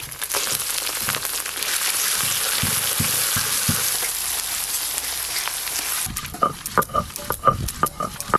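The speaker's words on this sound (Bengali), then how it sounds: "আজকে পেঁয়াজ কুচিগুলো একদম লাল লাল করে ভেজে নিয়েছি, ঠিক বেরেস্তার মতো করে।" Chopped onions fry in melted fish oil with a loud, steady close sizzle that dies away toward the end, replaced by scraping and stirring clatter in the pan.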